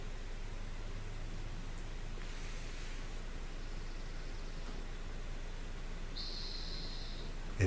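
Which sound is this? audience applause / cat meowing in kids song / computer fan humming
computer fan humming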